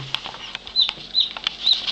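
High, thin cheeping of newly hatched chicks, repeated chirps over a soft steady background hum, close by and fairly clear.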